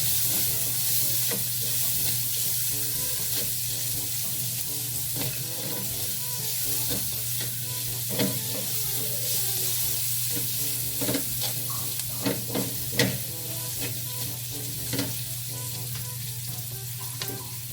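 Onion and ginger sautéing in a pan for ginataang tambakol, a continuous sizzle with a steady low hum beneath and scraping, clattering stirring strokes growing busier toward the end.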